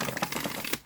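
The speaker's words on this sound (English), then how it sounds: "I'm just going to take a minute and shuffle into this card" Tarot cards being shuffled by hand, a dense run of quick papery riffles and taps, close and fairly loud, for about a second before trailing off.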